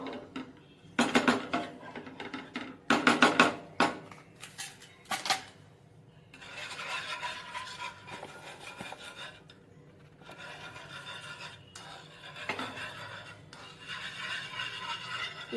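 A spoon scrapes and rubs through a cheesy pasta sauce in a pan, with a few sharp clatters early on and then long, steady scraping strokes, close and continuous.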